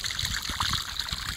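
A waterfall in the Ooty hills, being blocked off by a dam, roars with steady rushing and splashing water, a continuous dense wash of sound heard close and fairly loud throughout.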